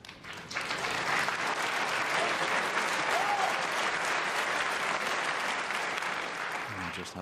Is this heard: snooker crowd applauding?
yes